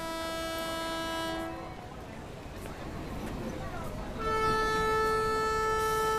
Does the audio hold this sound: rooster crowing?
no